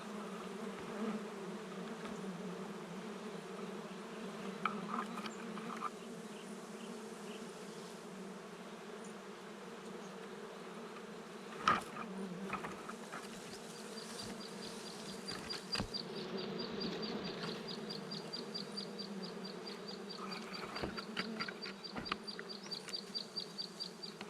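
Honeybees buzz steadily around hives while honey is cut and harvested, a dense, continuous hum close to the ear with occasional knocks and handling noises, and no talking.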